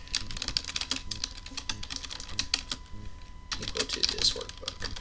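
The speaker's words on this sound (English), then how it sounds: "Sorry you have to deal with my terrible typing." Rapid, irregular clicking of keys on a computer keyboard while entering spreadsheet macro code, with bursts of keystrokes, a brief pause midway, and a quiet voice in the background.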